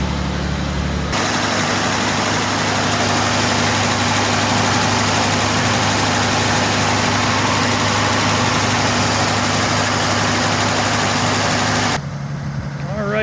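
A 1949 DeSoto convertible's engine idles steadily and close, a low, even rumble with a constant hum that holds for about eleven seconds before cutting off.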